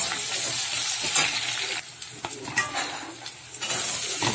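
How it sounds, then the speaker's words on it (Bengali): Onion, green chillies and black cumin (kalonji) sizzle in hot oil, a steady close frying hiss broken by a few utensil scrapes and stirs, with no voices. "কালো জিরে ফোড়ন দিয়ে দিচ্ছি, পেঁয়াজ কুচি দিয়ে দিলাম, পেঁয়াজ কাঁচা লঙ্কা এগুলো সব দিয়ে দিলাম তেলের মধ্যে।"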